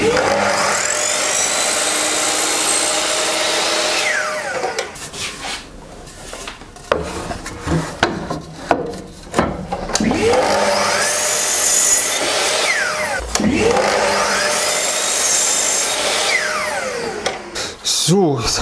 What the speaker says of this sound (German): jetzt sägen wir uns erstmal das Ganze zu